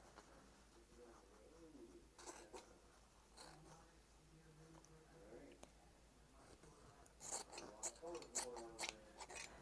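Scissors snipping through quilt fabric scraps, a few soft cuts early then a quick run of crisp snips near the end, close by under a faint room hum.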